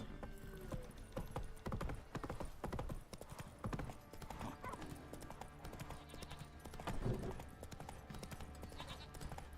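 A horse gallops in The Witcher 3 video game, its hoofbeats a rapid, continuous clip-clop heard over busy game ambience for the whole stretch.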